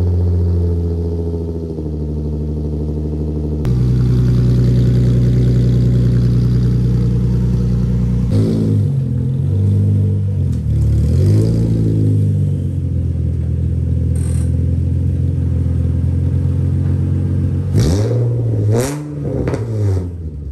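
Car exhaust with a Tomei titanium single exit revs hard, a loud, raspy idle jumping into several sharp blips and swoops of rising and falling pitch, close up with no voices.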